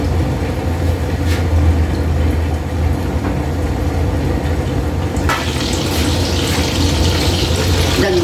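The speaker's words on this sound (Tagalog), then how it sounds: "At dito sa kabila ay magpiprito tayo ng tilapiyang isda." Dense, loud sizzling and crackling of tilapia fish frying in hot oil fills the whole stretch, growing brighter and spattering more toward the end, with no voices.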